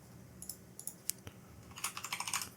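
Quiet clicking of fingers typing on a computer keyboard, a few scattered keystrokes early on, then a quicker burst of taps near the end, close and soft with no talking.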